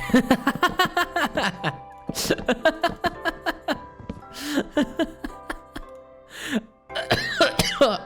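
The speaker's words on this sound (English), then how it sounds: "why did I just cough like that?" A series of short, sharp throat-clearing coughs in quick bursts, close and fairly loud, with a brief pause before a few more.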